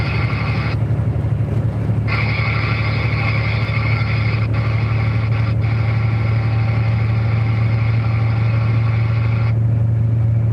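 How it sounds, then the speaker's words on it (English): A truck's Detroit diesel engine drones steadily inside the cab, a loud, even low hum with a constant engine tone, joined by a high whine that cuts in and out over the run, with no talking. "the truck is a screamer"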